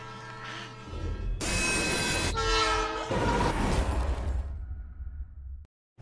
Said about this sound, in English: Sudden train.